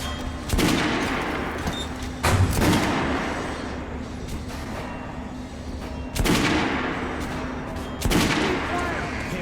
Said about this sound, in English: Head over to my range and try out those guns.